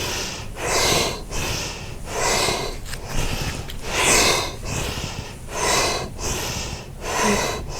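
Fast rhythmic yoga breathing during cat-cow: loud, close, forceful nasal inhales and exhales alternating in a steady pattern of roughly one breath cycle per second.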